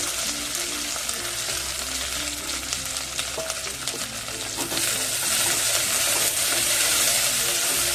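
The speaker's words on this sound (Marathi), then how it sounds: "आपल्याला आधी गवार भाजून घ्यायची चांगली." Cluster beans (guar) fry in hot oil, giving a continuous close sizzle with occasional clinks of a stirring spoon, while faint music plays underneath.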